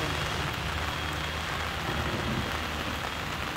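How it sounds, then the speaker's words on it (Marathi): Steady rain falling in Pune during a fourth straight day of downpour, a continuous dense hiss of drops on surfaces with no talk. "पुण्यात सलग चौथ्या दिवशी पावसाची बॅटिंग झालेली आहे।"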